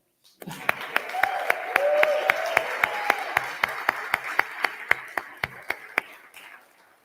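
Applause rises for a police officer at a State of the City address, a sudden start swelling into steady crowd clapping, with one nearby clapper beating out crisp regular strikes and a brief voice near the start.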